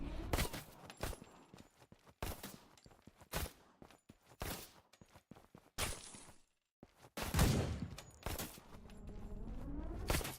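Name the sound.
multiple gunshots in video game Suit for Hire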